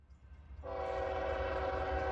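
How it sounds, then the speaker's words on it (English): Southbound manifest freight train M457 approaching at Folkston, its horn cutting in as a loud sustained multi-tone blast over a low rumble of the locomotive, with no talking. "not long after arriving, our first train was approaching, southbound manifest M457"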